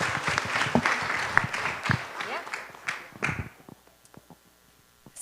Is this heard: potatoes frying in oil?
no